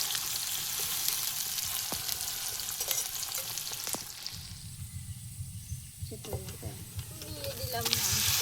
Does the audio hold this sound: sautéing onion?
yes